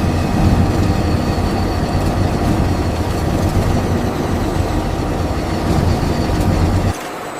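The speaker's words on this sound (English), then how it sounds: "blended fibers are precisely fed into the parallel carding lines" Textile factory carding lines run steadily as blended fibers feed through, a loud, continuous mechanical drone and rumble with a faint hiss on top that drops off abruptly near the end.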